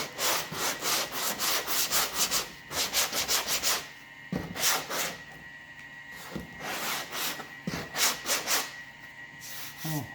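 Rhythmic back-and-forth rasping of 80-grit stick-on sandpaper worked by hand across the C-pillar of a 1969 Sport Satellite, in quick bursts of strokes separated by short pauses.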